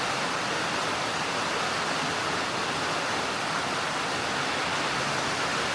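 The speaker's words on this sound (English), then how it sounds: "Pouring down rain." Heavy rain pours down outside a workshop, a steady, dense wash of noise that holds at an even level throughout with no voices.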